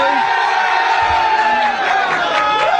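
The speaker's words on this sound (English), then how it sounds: "Listen to the effing crowd." A studio crowd on a comedy radio show cheers and whoops loudly, a continuous roar of shouting voices with rising yells, close and sustained throughout.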